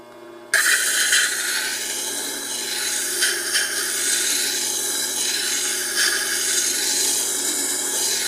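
Wet sanding disc grinding labradorite stones, a steady abrasive rasping that starts abruptly and runs close and continuous, with slight swells in intensity.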